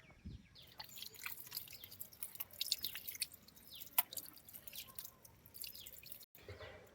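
Water drips and trickles onto newly planted brinjal seedlings in a terrace garden after a night of rain, a faint, steady patter with scattered distinct drops and soft bird calls far off, with no voices.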